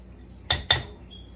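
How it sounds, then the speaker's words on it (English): A utensil mixing sour cream and butter in a bowl knocks twice against the side, two sharp, close clinks in quick succession over otherwise quiet room sound. "Now I'm going to mix this. Mix this up really well."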